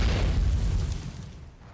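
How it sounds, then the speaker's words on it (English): Deep booming explosions and artillery fire in the anime-style shooter Goddess of Victory Nikke, a loud rumbling low-end blast that slowly decays over a couple of seconds with no talk. "There is a cacophony of noise as Snow White's gunfire melds with the artillery fire from off in the distance."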